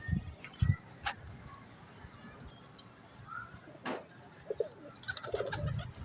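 Pigeons in a loft coo in soft, low bursts close by, mixed with scattered chirps and shuffling, while people talk faintly in the background.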